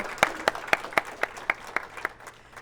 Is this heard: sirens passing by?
no